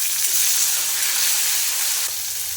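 Tomatoes and chillies fry in hot oil with a steady, loud, close sizzle that holds evenly throughout, with no voices.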